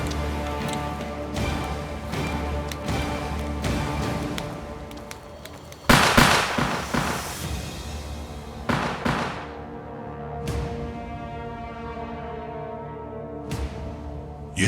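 Gunshots crack out in a tense period drama scene, sharp loud reports coming in pairs with short gaps, ringing against a steady humming background with no talking.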